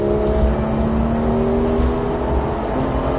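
A Porsche GT3 991 race car accelerates on track, its engine a loud sustained roar with rising tonal whine, heard from inside the cabin without pause.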